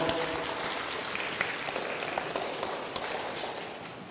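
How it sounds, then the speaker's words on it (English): Children applaud together at a school mass, a steady, dense patter of clapping that holds for the whole stretch, fairly close and even in loudness, with no speech over it. "Applause, applause."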